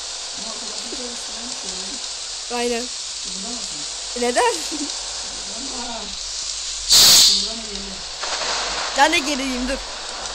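Steady hissing rain fills the background inside a truck cab, with people talking closely over it and a brief louder burst near the middle.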